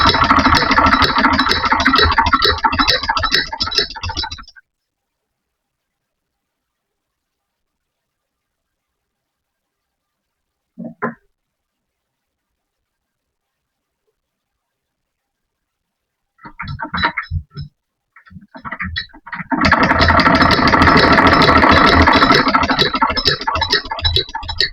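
A sewing machine stitches a shalwar in two loud, steady bursts, one at the start and one near the end, with near silence between them and a few brief clicks.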